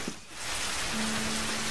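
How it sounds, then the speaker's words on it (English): Steady rain falls on a garden plot at a rural work site, a continuous broadband hiss at moderate level with a low sustained hum running through the middle and a brief bump near the end. "As much as I love the rain because the garden loves it, I kind of feel like saying, rain, rain, go away."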